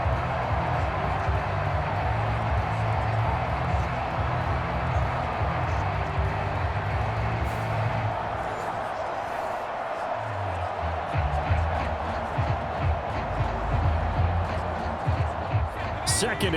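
Steady stadium crowd roar fills a 49ers vs Commanders NFL game, a broad continuous wash of noise with a commentator talking over it throughout.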